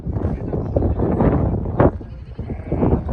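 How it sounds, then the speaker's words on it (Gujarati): Sheep and goats roaming near a dam bleat in a loose outdoor flock, several calls overlapping close by with a louder cry midway, mixed with background voices and ambient noise. "અત્યારે જો આ બધા ઘેટા બકરા રખડે જ છે"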